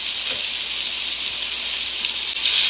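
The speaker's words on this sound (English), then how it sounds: "As you can see, it sizzles" Chicken sizzling in a hot, greasy pan on a stovetop, a steady close crackle and hiss filling the short stretch without any talk.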